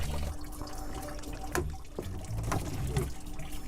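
Water spills and trickles from a pipe valve being fitted during a leak repair, a steady splashing dribble with a few sharper drips, fairly close and continuous.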